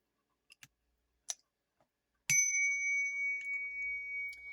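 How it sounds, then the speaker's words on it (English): A small bell rings once with a clear, sustained ding that slowly fades, preceded by a few quiet clicks in an otherwise silent room. "Let's ring the bell."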